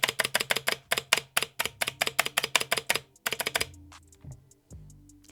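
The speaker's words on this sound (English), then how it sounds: "The worst sounding part of this board, as with a lot of pre-assembled boards, is the spacebar and its stabilizers" A YUNZII SK71 optical mechanical keyboard's spacebar is pressed in quick repeated taps, each stroke a loud clacky thock with rattling stabilizers, close-up and alone, before a few slower, softer presses trail off.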